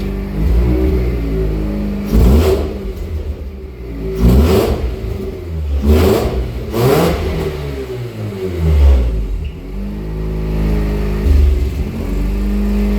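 A Mazda B2200 pickup with a swapped-in 13B rotary engine and custom exhaust revs repeatedly, rising and falling in several bursts over a rumbling idle, close and loud.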